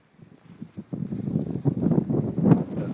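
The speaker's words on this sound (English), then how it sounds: "On the back porch, facing into the wind." Blizzard wind on a back porch buffeting the microphone with low rumbling gusts that swell and roar, loud and close, steadily building without any talking.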